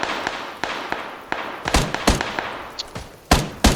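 Gunfire in the PUBG video game on PS5: a series of sharp, distant-to-mid shots and thumps in an irregular rhythm, a few louder cracks near the end.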